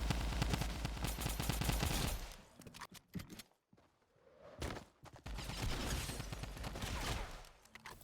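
A drum gun in Fortnite fires long rapid-fire bursts, loud and close, with a short gap of scattered shots and footsteps before the heavy fire resumes.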